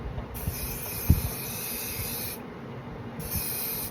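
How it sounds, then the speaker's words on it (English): Hair spray hissing from a can onto hair before a wig cap goes on, two long sustained bursts of bright hiss close up with a brief pause between and soft handling noise underneath. "First, before I apply my cap, I always spray my hair."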